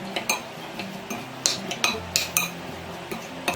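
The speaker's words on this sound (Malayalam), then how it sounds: "ഇതെല്ലാം കൂട്ടിയിട്ടൊന്ന് മിക്സ് ചെയ്ത് മാറ്റി വെക്കാം." A metal spoon clinks and scrapes against a bowl while mango pickle spices are stirred together with vinegar, giving irregular sharp ticks and taps close by with no talking.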